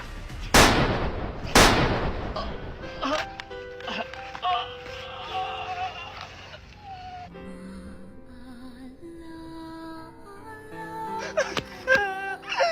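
Two sharp, loud gunshots ring out close together near the start of a horror scene, followed by wailing, moaning and tense music.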